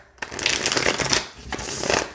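A Llewellyn Green Witch tarot deck is shuffled by hand, producing close, crisp papery riffling that runs steadily, eases briefly midway, then picks up again.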